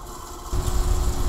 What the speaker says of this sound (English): This is a wind test with the Road Blimp.